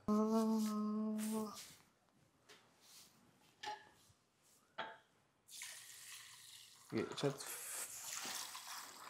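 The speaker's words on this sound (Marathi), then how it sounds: "हे डाळ आणि तांदूळ. हा, याला तुला धुवायचं आहे." Dal and rice being rinsed under running water, a tap stream starting and stopping with splashes and swishing of grains in a vessel, with people talking between bursts.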